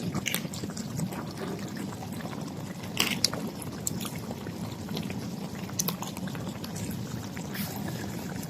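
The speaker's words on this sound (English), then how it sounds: "So add hot water" Hot water poured into a cooking pot of squash with crabs, a steady broadband liquid rush lasting throughout with a few brief clinks, close and moderately loud, no talk.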